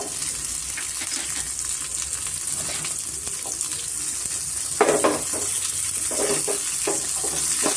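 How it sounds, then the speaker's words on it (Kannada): Crushed garlic, asafoetida, green chillies and onion fry over medium heat in a pan, a steady close sizzle throughout with a brief louder crackle and stirring burst near the middle, no speech. "ಮೀಡಿಯಮ್ ಫ್ಲೇಮಲ್ಲಿ ಸ್ವಲ್ಪ ನಾವು ಫ್ರೈ ಮಾಡ್ಕೊಬೇಕಾಗತ್ತೆ"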